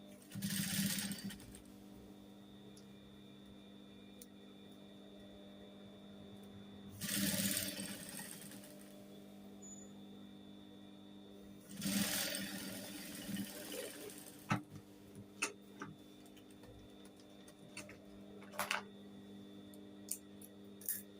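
Sewing machine stitching a dress for hijab-wearing women, running in three short loud bursts of rapid stitching separated by quiet pauses, with faint handling clicks between runs and no talk.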